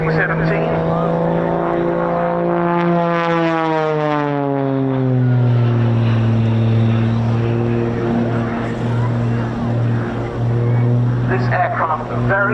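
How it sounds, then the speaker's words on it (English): An unlimited aerobatic display plane flying at an RAF Cosford air show. Its loud, tonal engine drone sweeps downward in pitch as it passes close by, then settles into a steady lower hum. "This aircraft very much at the cutting edge of a modern, unlimited aerobatic art."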